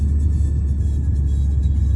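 Car interior while driving through downtown Halifax, a steady low engine and road rumble with faint higher hiss, even and continuous for a couple of seconds and no one speaking.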